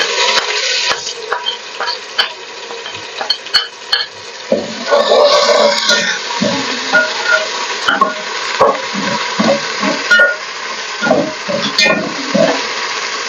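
Garlic paste sizzles and fries in a hot pan, with steady crackling and bursts of spitting alongside scraping stirs throughout.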